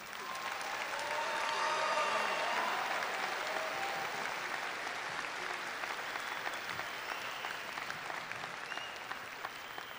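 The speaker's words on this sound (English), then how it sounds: "Let's give these students a round of applause." Sustained applause from a large graduation ceremony audience honoring students, a dense wash of clapping that swells early and stays steady for the full stretch, with faint crowd murmur underneath.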